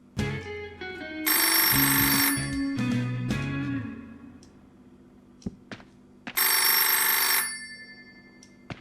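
Telephone ringing in a Finnish GTA-style video game, two loud bursts of bright electronic ringing separated by a pause, with other low game sounds between them.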